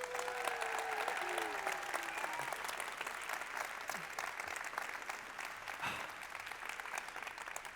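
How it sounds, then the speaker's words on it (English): Warm audience applause at a startup conference opening in Tartu, sustained crowd clapping throughout, with a few faint whistles or cheers early on. "please give them the warmest applause Tartu has ever seen."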